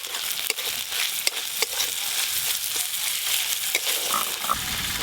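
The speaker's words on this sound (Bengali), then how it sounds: "এবার ভেজে রাখা করলাগুলো দিয়ে দেবো।" Fried bitter gourd goes into a spice paste with poppy seed in a hot pan, giving a loud, continuous sizzle broken by stirring scrapes.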